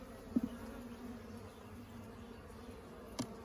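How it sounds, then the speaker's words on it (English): Honeybees at a top bar hive being inspected for a laying worker problem make a steady close buzzing hum, with a few brief louder buzzes as bees pass near. "There's a bee in the cage, but I think that's just a worker."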